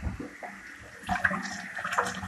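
Cold tap water running as burger ingredients are rinsed, a close, uneven splashing stream that swells louder in the second half.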